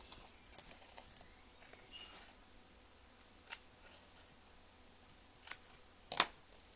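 Scissors snip through scrap paper while a paper bow is cut between its folds, giving a few faint, quiet cuts spread sparsely over a low background, with a sharper clip near the end.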